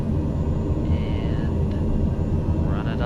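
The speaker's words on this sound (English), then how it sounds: "We're gonna advance the throttle until they stabilize" A light general aviation aircraft's engine runs up on the runway before takeoff, a loud, steady, close droning rumble that holds continuously, with a faint rising whine near the end.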